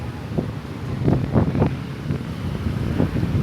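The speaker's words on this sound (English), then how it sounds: "It's still blowing, but not as bad as it was." Wind buffets the microphone in a continuous rough roar, swelling in gusty pulses without any voices.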